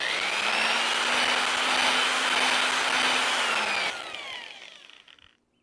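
Electric drill spinning a ball hone inside an outboard motor cylinder on a Johnson Looper rebuild gives a steady whirring grind with a rising whine, then slows and winds down to a stop.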